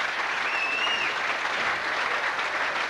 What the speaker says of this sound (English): a round of applause for David Hardy for a top performance